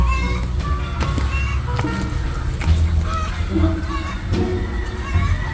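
Ducks on a farm by their nesting area, several birds quacking and honking in scattered bursts close by, with human voices faintly mixed in.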